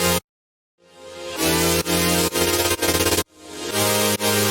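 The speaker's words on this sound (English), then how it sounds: "the automation that I did on the chords with an LFO tools, which sounds like this in the chords" Synth chords pulse under LFO Tool volume modulation with the rate and wet/dry mix automated, opening from a brief silence into rhythmic chopped swells that speed and deepen, loud and dense.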